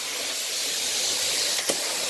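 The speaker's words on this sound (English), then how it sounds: "I want to spray a little bit of ink cap on it" A carpet cleaner sprays ink cap spotting product onto a carpet, giving a continuous close hiss of mist with one brief sharper burst near the end.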